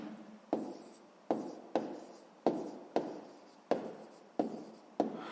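A pen writes down a math answer in a run of seven scratchy strokes, each starting sharply and trailing off, close and quiet with no talk.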